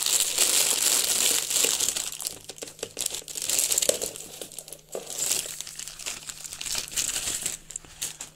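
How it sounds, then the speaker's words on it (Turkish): A Bumblebee Transformers toy mask is pulled out of its plastic bag, with loud, close crinkling and rustling of plastic in irregular bursts that ease off and return. "Şimdi poşetinden çıkaralım"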